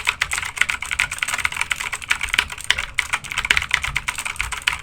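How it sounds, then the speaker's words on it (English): Steady, moderately paced clacking of SteelSeries Apex 7 mechanical keyboard keys with blue switches, dense overlapping keystrokes continuing throughout with no voices. "This is medium typing on the Apex 7."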